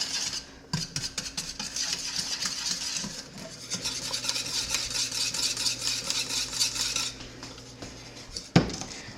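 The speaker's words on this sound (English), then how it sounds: "I'm gonna whisk this together" A whisk scrapes and clinks steadily against a metal pan as a custard mixture is beaten over medium-low heat, close and continuous with a sharper knock near the end; no talking.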